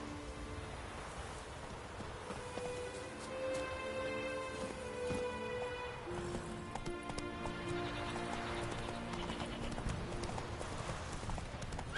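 A horse galloping in the video game Witcher 3, with steady rapid hoofbeats throughout, layered over game music and ambient sound.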